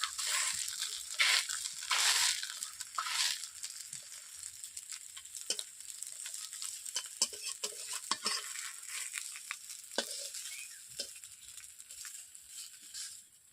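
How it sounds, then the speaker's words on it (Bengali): Helencha greens pakoras (bora) frying in hot oil, pressed with a bowl as they cook: a continuous bright sizzle with occasional crackles and light scraping, close and fairly quiet, with no talking. "দেখতেই পাচ্ছেন বড়া ভাজাগুলো কেমন আমি ভাজছি"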